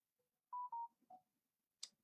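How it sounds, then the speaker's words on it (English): A mobile phone goes off with a couple of short, clear electronic beeps and a lower tone, followed by a brief click, in an otherwise quiet room. "My phone just went off for some reason"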